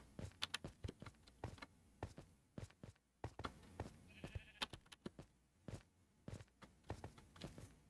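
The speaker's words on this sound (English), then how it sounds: "Wait, was that a sheep?" A sheep in a block-building video game near a village bleats briefly and faintly amid a steady patter of nearby footsteps and digging taps, with no voices.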